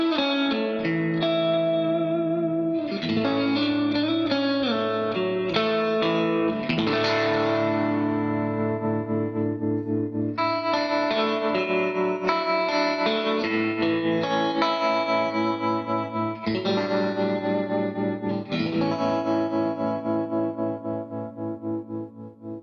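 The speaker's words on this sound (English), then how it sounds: "The reverb on this Vox AC15 is cavernous and deep, as well as the tremolo has a nice throb to it." An electric guitar plays chords and melodic lines through a Vox AC15 15-watt amplifier, with a deep wash of reverb and a pulsing tremolo throb on the sustained notes.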